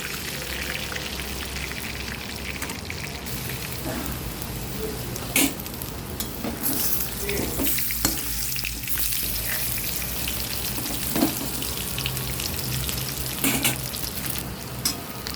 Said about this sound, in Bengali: ওই তেলের ওপর আলুগুলো ভেজে নেব।